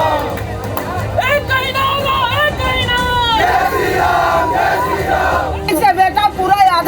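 A large crowd of Hindu organisation members outside a house in Chhattisgarh shouts slogans in loud, sustained unison, with rising chants and calls over a constant roar of massed voices.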